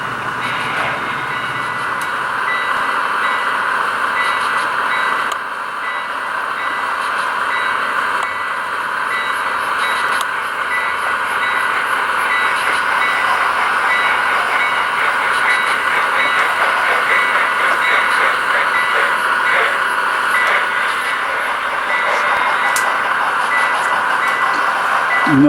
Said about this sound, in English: You hear a big freight going through on the main line.